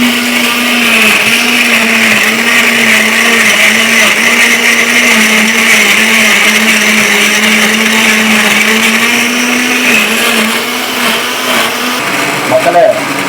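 A kitchen blender grinds peeled garlic and ginger with water into a paste, a loud, steady, close motor whir running the whole time with a slight wavering pitch and a few rattles near the end.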